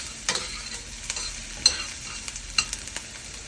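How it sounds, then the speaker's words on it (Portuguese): Onion browns in butter and olive oil with a soft, continuous sizzle close by, punctuated by a few light stirring clicks and scrapes, no voices present. "Coloque uma colher de manteiga para ajudar a dourar a cebola e não deixar queimar o azeite."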